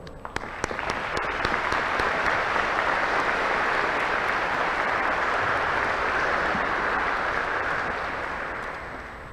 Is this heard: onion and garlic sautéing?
no